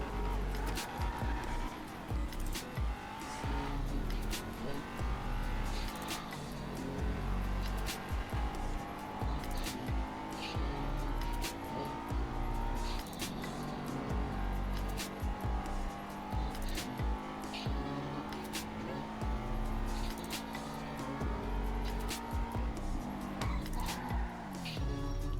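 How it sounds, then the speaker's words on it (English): Engine of a drift car in the racing game Rapid GT, revving hard through repeated double-clutch gear changes, with steady droning tones and tire squeal layered beneath a continuous loud mix. "So this car can double clutch, so if you do know how to do that, it will make the car a lot faster."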